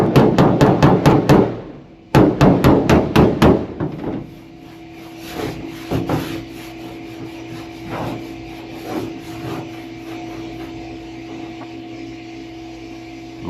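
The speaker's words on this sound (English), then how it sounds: "So then I will run the hammer and dolly over it and re-crown it where I want it." Hammer and dolly strike the sheet metal of an old Dodge Power Wagon truck door: two fast bursts of sharp, ringing metallic blows, then a steady hum with scattered single knocks and rubbing, close and loud.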